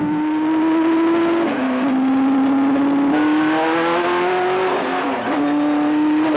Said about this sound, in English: We'll go out, try to get some temperature in the engine, warm things up